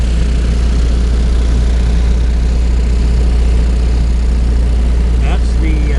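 A Kubota Powertech generator running close up, a loud, steady engine drone with a deep low hum and constant fan rush, unchanging throughout.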